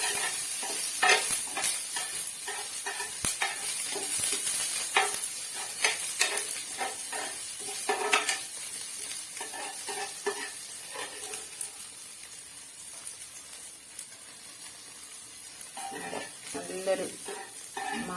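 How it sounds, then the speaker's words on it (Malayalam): A generous handful of curry leaves crackles as it fries in oil in a pan before a prawn fry. The sputtering and popping is continuous and moderately loud, with scattered sharper snaps and no talking. "കുറച്ചധികം കറിവേപ്പിലയും കൂടി നമുക്ക് ഈ ഇടത്തിൽ തന്നെ നന്നായിട്ടൊന്ന് വറുത്ത് കോരി എടുക്കാം"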